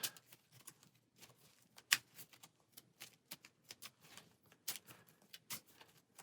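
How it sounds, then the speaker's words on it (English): Cards shuffled for a Marvel Champions game: a run of crisp riffling snaps and soft ticking flicks, close and quiet, irregular bursts with brief pauses in a still room. "I did forget to shuffle here, so we'll go ahead and do that"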